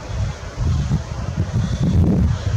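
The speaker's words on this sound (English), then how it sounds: "The wind's moving it." Wind buffeting a microphone outdoors in Glacier, a steady low rumbling gust noise that swells and eases without talk.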